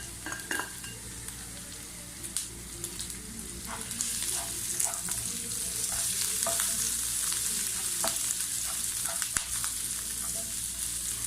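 Green chilies fry lightly with boneless beef in a pan, a steady close sizzle broken by repeated scraping stirs and clinks of a spoon against the pan.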